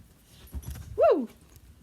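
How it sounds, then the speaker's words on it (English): A standard poodle lets out a single short, rising-and-falling whimper, fairly close and clear, after a couple of soft thumps in an indoor room. "He's a standard poodle."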